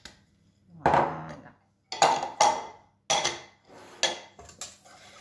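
Flour and milk are stirred together in a bowl with utensils, giving a few separate bursts of clinking and scraping against the bowl with short quiet pauses between them, close and fairly loud.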